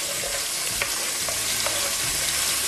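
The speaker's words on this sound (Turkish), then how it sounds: "soğana kerevizi ekliyor" Celery dropped into onions frying in a pan gives a steady, close sizzle with crackling and a few soft clicks of stirring, running throughout with no talk.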